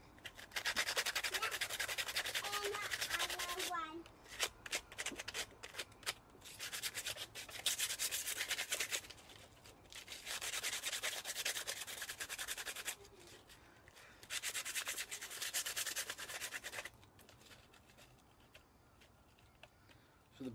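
Sandpaper rubbing over a latex Tom Savini mask to take off burrs, heard as steady bursts of close, scratchy sanding strokes with short pauses between them and no talking.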